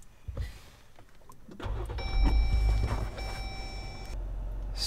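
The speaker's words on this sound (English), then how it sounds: "I'm going to start up the engine to see if this works" A car engine cranks and catches after a quiet pause with a few clicks, then settles into a steady idle hum accompanied by a faint electronic tone from the dashboard.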